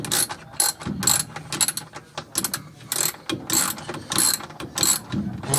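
Rapid ratcheting clicks come in bursts as a socket wrench backs long socket screws out of a washer, close and fairly loud, with short pauses between runs.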